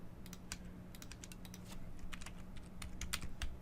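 Faint, rapid keystrokes on a computer keyboard tap along steadily over a low background hum, getting slightly busier toward the end, with no speech.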